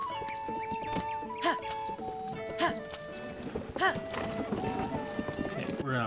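Hollow clip-clop of hooves in an uneven rhythm, with a short whinny and soft game music underneath.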